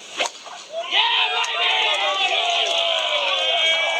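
Golf gallery at the Open Championship's 18th hole reacting to Justin Rose's tee shot: a swelling wash of applause and cheering rises after a brief thud, holding steady and broad as people talk over it.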